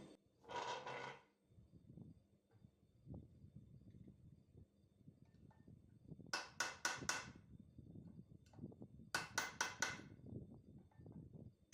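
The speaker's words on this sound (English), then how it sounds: "I just tap on that to make sure it goes down in the seat" Metal clip tapped into the groove of an axle yoke on a 1992 Chevy 4x4 pickup, two quick bursts of three or four sharp ringing hammer taps, close and distinct over faint handling noise.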